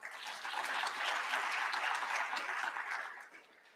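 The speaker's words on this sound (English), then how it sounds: "I please would ask that you give them a round of applause." Audience applause at a public works and infrastructure summit, a dense steady wash of many hands clapping that swells quickly, holds for several seconds and tapers off at the end.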